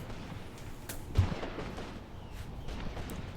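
Distant battlefield gunfire in the WWII tactics game Graviteam Tactics Mius Front, scattered faint shots and a muffled thump or two over low rumbling ambience.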